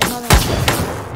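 Pistol gunshots in the Krunker.io video game: two sharp, close reports about a third of a second apart, the first heavier with a booming low thump, the second lighter.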